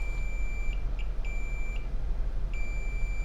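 A multimeter in continuity mode beeps as probes touch the connector of an aftermarket iPhone X LCD screen, giving steady high-pitched tones broken by short gaps, loud and close over a low background hum.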